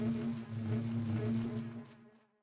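Bees buzzing in a Minecraft ATM10 modpack video game, a steady droning hum from several insects that holds evenly and then fades out near the end.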